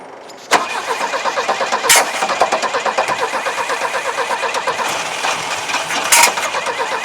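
A 1985 Iltis engine cranks over with a fast, even starter rhythm for several seconds, a sharp click at the start and brief louder bursts along the way, without catching into a clear run.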